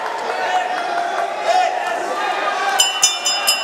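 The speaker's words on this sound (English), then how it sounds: "it's good to hear the crowd getting behind them here this evening" Crowd of fight fans at the Forum cheers and murmurs during a local boxing bout, a steady roar of voices with scattered claps and bright clinks, while a commentator talks over it.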